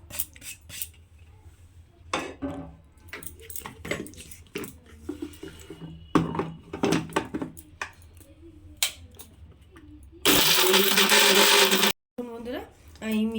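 A mixer grinder jar whirs loudly for about two seconds while grinding dried tomatoes into powder, after a stretch of clinks and handling sounds as the jar is set up, then stops abruptly.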